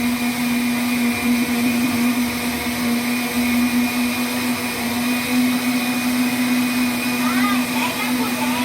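A countertop blender whirs steadily while mixing pizza dough made with flour and salt, a loud, even motor hum with a constant pitch that runs for the whole stretch.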